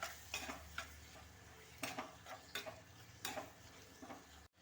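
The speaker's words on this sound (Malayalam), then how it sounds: "ഇതെല്ലാം കൂടെ ഒന്ന് ഇളക്കി കൊടുക്കാം" Spoon stirring pepper, turmeric and garam masala into a cucumber curry, with a series of distinct scraping strokes against the pan over a soft sizzle, close and fairly quiet.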